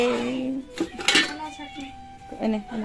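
Metal dishes clatter and clink as they are handled and turned upside down, several sharp knocks scattered over a few seconds with a voice talking between them.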